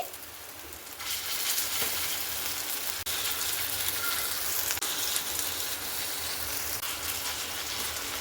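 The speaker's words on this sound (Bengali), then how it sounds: "তো এখানে হালকা করে গ্যাসের আঁচ দিয়ে কিন্তু খুব সুন্দর করে ভেজে নিতে হবে" Potato and egg fritters frying in a pan over a low gas flame, giving a steady, dense crackling sizzle that runs close and unbroken throughout, with no voices.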